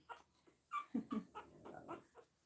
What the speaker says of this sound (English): She's over here in the corner by my side, snoring away.